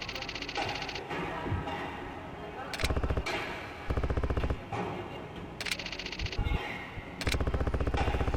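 Gunfire from a sketchy gun in the Yakuza video game rings out in loud, rapid bursts of several shots each, separated by short pauses, with game ambience underneath.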